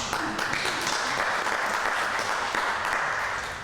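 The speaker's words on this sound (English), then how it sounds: "Feel free to applaud." Applause fills a naturalization ceremony hall, a dense steady crowd of clapping hands sustained for a few seconds and tapering slightly at the end.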